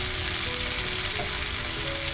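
Food fries in its own oil in a pan, giving a dense, continuous sizzle that stays loud and even for a couple of seconds, with no talking.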